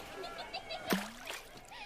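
Geralt dives into water in The Witcher 3: Wild Hunt – Hearts of Stone, making one sharp, fairly close splash midway that trails off quickly over a low bed of soft ambient game sound.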